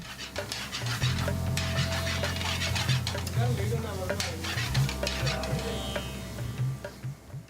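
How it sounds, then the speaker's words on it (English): Ingredients, including chopped chicken, are stirred and scraped around a sizzling frying pan, with steady frying crackle and clinking utensil sounds close by. "He mixes all the ingredients together."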